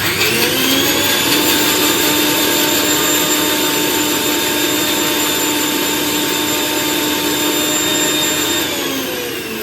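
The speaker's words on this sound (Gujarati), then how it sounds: "હવે આપણે એને પીસી લઈશું." A kitchen mixer grinder grinds chutney ingredients for pani puri in one loud, continuous high-pitched whine that holds steady for nearly ten seconds, then begins to wind down at the end.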